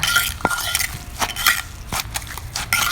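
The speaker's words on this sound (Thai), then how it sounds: "จากนั้นก็โขลกให้ เครื่องปรุงรสทั้งหลายกับน้ำพริกของเราเข้ากันนะคะ" A pestle pounds catfish chili paste with seasonings and fermented fish in a mortar, giving irregular, close, sharp knocks and scrapes about half a dozen times.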